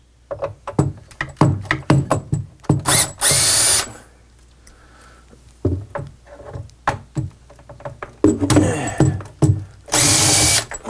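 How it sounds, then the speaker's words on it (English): A power drill backs Robertson screws out of the front panel of an Atari Quantum arcade cabinet, in repeated short whirring bursts with a few longer high runs, close, with clicks and handling noise between. "I'm gonna come in here and just see if I can just yank all the Robertson screws"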